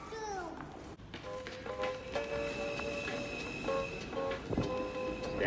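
A New York subway F train rumbles with squealing wheels and rising and falling tonal whines. A voice babbles over the rail noise.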